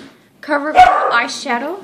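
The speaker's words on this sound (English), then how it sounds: "Sorry about my dog." A dog gives a short bark partway through while a person keeps talking over it.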